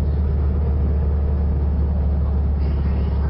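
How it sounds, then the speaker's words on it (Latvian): Volkswagen car, a model designed in 1934, driving around the Biķernieki karting track, giving a steady, loud low engine rumble and road roar from inside the cabin, continuous throughout with no talk. "Tagad pienāca laiks sēsties automašīnā un izbraukt pa biķernieku trases kartinga līkumiem."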